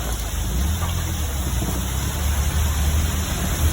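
Heavy rain from a massive thunderstorm in Positano, Italy, pours steadily and loudly as a dense hiss with a low rumble beneath, heard from shelter during an underground porter ride.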